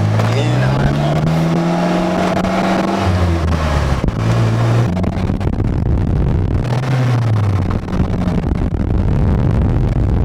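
A Polaris Slingshot pulls away in first gear, its engine note rising loud and close as it accelerates, with steady rumble and shifting pitch throughout.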